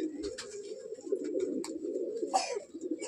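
Pigeons in a breeding loft coo steadily up close, a continuous low throaty burble with a few sharper clicks and wing or perch noises mixed in.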